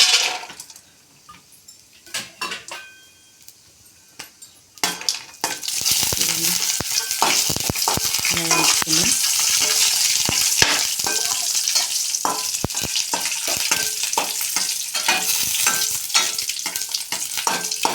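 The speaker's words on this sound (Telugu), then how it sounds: "కానీ ఈ నేతిలోకి వేసుకొని వేయించుకున్నాం" Vermicelli frying in ghee, first a few quiet scrapes and taps of stirring, then a loud, steady, close sizzle that continues with constant stirring clatter for over twelve seconds, no talking.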